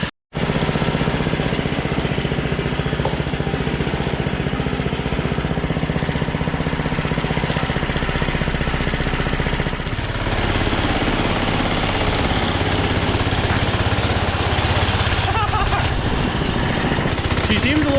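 A revived Doodle Bug scooter's small engine runs continuously and loud at close range, a steady rough putter with a brief dip near the ten-second mark before it settles back into the same unsteady idle.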